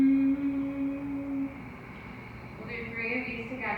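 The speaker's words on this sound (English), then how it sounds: "Brahmari is the honey bee breath, where we inhale through the nose" A person performs Bhramari honey bee breath, a humming exhale through the nose, heard as a steady close hum that fades after about a second and a half over a faint background hiss.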